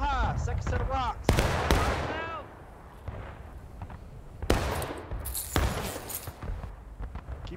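Musket volleys crackle in the War of Rights Civil War video game: sharp, ragged bursts of massed gunfire in several loud clusters, mixed with distant shots and shouting voices.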